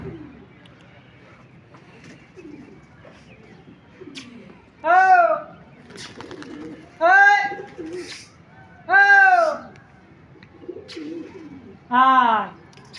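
Pigeons on rooftops give four loud, throaty coos at regular intervals, close by, over a low murmur of quieter bird sounds and faint background noise.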